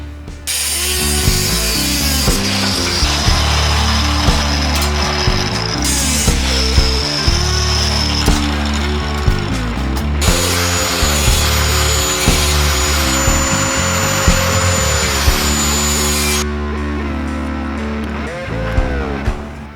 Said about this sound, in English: We'll push these with the dimple dies